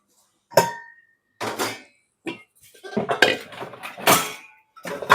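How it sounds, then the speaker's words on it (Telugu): Metal pots and lids clank in short bursts as a lid is set on a cooking pan while pesarattu and upma are made; several separate knocks and clinks sound close and fairly loud, with no talk. "మనం కూడా మూత పెట్టుకుందాం అండి"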